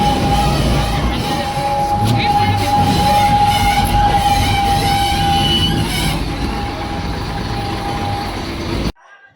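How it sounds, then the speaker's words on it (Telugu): A toy train runs at Kailasagiri in Visakhapatnam with a loud, steady rumble of wheels on track and a sustained high squeal, heard close up, before the sound cuts off abruptly at the end. "ఇలాంటి టాయ్ ట్రైన్ ఉంటుంది"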